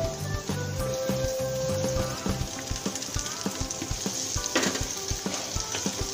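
Capsicum and cabbage being stir-fried in butter for veg masala noodles, a loud steady sizzle with repeated scraping and clattering stirring strokes, close up and without talk.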